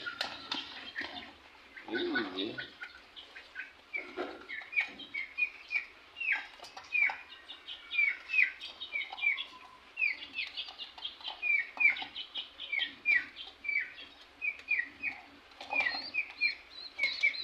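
Pigeons and their two small chicks call repeatedly at feeding time, a steady stream of soft chirps, clucks and squeaky cries at moderate distance with a brief low voice near the start.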